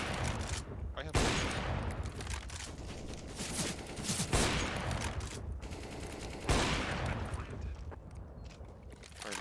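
Counter-Strike gunfire in a competitive match: dense, rapid bursts of automatic shots and booms continue nearly nonstop, with players' voices talking underneath.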